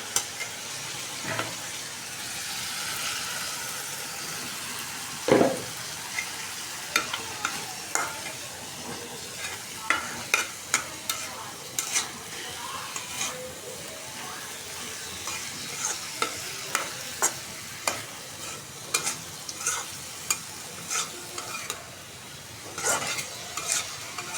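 Masala with cardamom and potatoes frying in a pan for egg curry, a soft steady sizzle broken by repeated sharp scraping strokes of a spoon stirring, close and clear with no talking.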